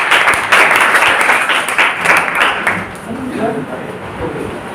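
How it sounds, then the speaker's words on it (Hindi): An audience claps loudly for about three seconds during a talk, then the applause thins out as a voice begins speaking over its tail. "तो के लिए एक बार जोरदार ताली।"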